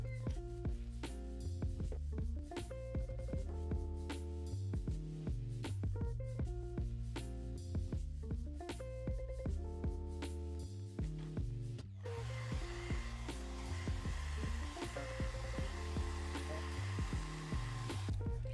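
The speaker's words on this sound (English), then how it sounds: "I'm going to use heat from a blow dryer to melt the adhesive." A blow dryer heats the rubber sole of a pair of Jordan 12 sneakers to soften the old adhesive, giving a steady close whir with no speech.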